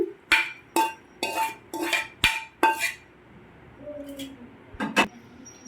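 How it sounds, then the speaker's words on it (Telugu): Fried brinjal pieces are mixed into yogurt with onions, a spoon knocking sharply against the bowl in a quick run of six clinks, then a pause and two more scraping taps. "ఇప్పుడు దీన్ని మొత్తం కలిపేసుకుందామండి"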